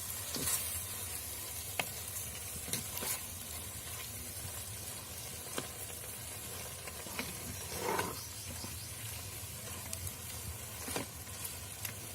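Masala for jackfruit biryani is gently stirred in an earthen pot, giving a faint steady sizzle. Occasional soft scraping and clicking strokes sound through it, with no voices.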